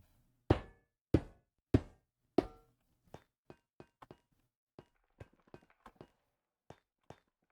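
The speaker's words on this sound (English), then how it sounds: "as well as the sound of walking on them" Four loud, evenly spaced thuds open the scene, then a long run of light, quick ticking steps follows as a character walks across iron blocks in the video game Minecraft. The footsteps stay faint and close, with no talking.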